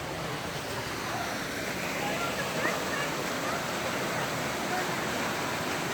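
A waterfall on a cold mountain beside Native American ruins and a cave in Arizona roars as a constant, even wash of falling water, close and steady throughout.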